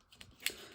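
A dull craft blade cuts paper for a collage: one brief, faint, crisp scrape-snip in an otherwise quiet moment, with no voices.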